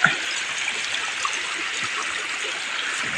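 Stream water near a banana plantation flows with a steady, close rushing trickle throughout, with no talk over it.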